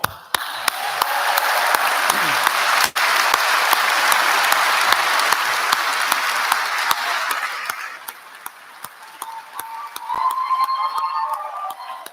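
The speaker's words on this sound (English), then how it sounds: "And we can applaud." A graduation ceremony audience gives long, steady applause that fades after several seconds, followed by softer scattered clapping and faint murmuring.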